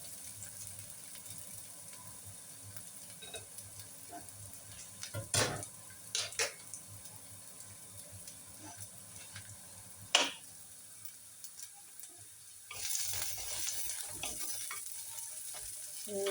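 Greens sauté quietly in a pan with a soft, low sizzle, broken by a few sharp clinks of a utensil against the pan and a louder burst of frying near the end.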